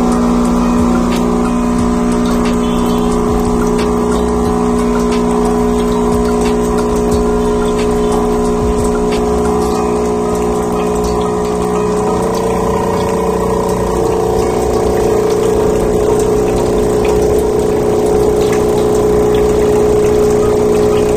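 Gemilai CRM3005G espresso machine pump running on its automatic button, a steady loud humming drone with a constant pitch that holds evenly for about twenty seconds with no talking.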